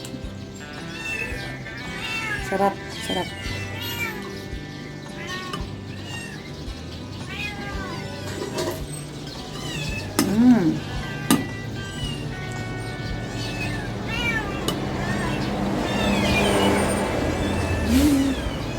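Several cats meow insistently for food, rising and falling cries overlapping one another at close range, with occasional brief speech and background noise.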